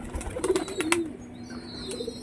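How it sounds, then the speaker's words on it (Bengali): Domestic pigeons at a rooftop loft give soft, low cooing calls near the start, with a few brief chirps and faint wing flutters against a quiet background. "আরও পায়রা সব উপরে বসে আছে"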